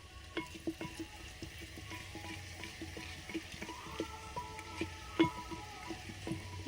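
Bay leaf fries in a clay pot with a faint crackling sizzle, broken by frequent small pops and light utensil taps, close but quiet, with no voices.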